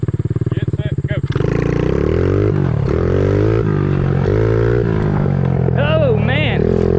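A 1976 Honda Z50 mini bike fitted with a swapped-in 125cc engine revs hard and loud at close range. The idle chug rises into a steady high-pitched run as it pulls away, and excited voices shout over the engine.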